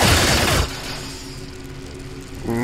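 Burst of gunfire from a heavy weapons soldier in the turn-based Xenonauts strategy game, a loud dense volley in the first half second, then a lingering mechanical hum and tail before another sound starts.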